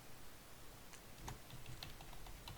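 Quiet keystrokes on a computer keyboard while coding a web page, a short burst of soft, irregular clicks heard alone.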